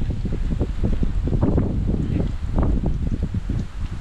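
Strong wind gusts buffet the microphone outdoors in Taiwan, a loud continuous roaring rumble with uneven surges throughout.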